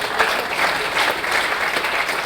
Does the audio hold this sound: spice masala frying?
no